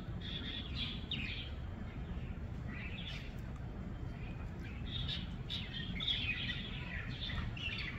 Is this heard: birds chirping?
yes